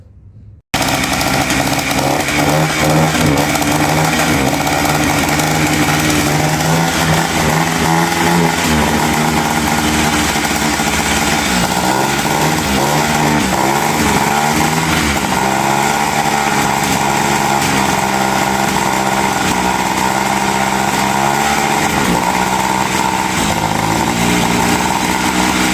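A Yamaha Blaster engine fitted in a Power Wheels Jeep runs continuously at a loud, steady idle with a raspy two-stroke buzz, its pitch wavering and bogging slightly, with no talk over it.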